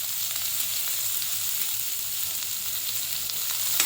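Chopped onion frying in a pan with curry leaves for a Malvani pithi curry: a steady, even sizzle that stays close and continuous throughout, with no voices.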